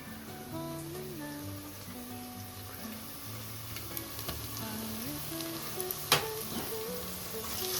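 Ginger garlic paste frying in hot oil in a village kitchen pan, a steady close sizzle running throughout with occasional clinks and taps from stirring, while background music plays underneath.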